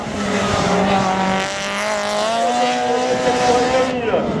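An F2000 single-seater race car on a slalom course, its engine screaming loud and near with rising and falling revs and gear changes, while a commentator speaks over it.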